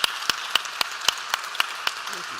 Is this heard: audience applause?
yes